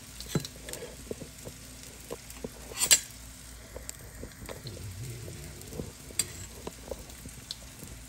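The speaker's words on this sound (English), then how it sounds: "You get a good close-up shot of that French toast while it's cooking." Croissant French toast fries in a pan with a soft, steady sizzle and a few scattered pops and crackles, close but quiet, with no talk.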